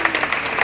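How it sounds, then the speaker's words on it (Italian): Brief burst of applause from an audience at a political press gathering in Brindisi, greeting a former provincial president, a short dense patter of clapping at fairly even loudness. "lo salutiamo con un applauso"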